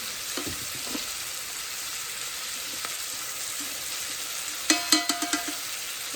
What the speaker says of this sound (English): Okay, let's saute like 1 minute